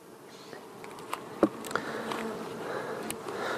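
Honeybees drone steadily around an open beehive being worked, a close, continuous buzz with individual bees swelling louder as they pass near, plus a few light knocks of hive parts.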